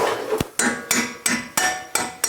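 A hammer strikes a stubborn brake caliper pin on a 2010-2018 Toyota 4Runner, giving six sharp metallic blows in a steady rhythm, each ringing briefly, close and loud.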